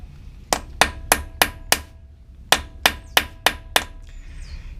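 Metal hammer strikes on a punch set against a pit bike stator screw: a run of five sharp, evenly spaced blows, a short pause, then five more, close and loud.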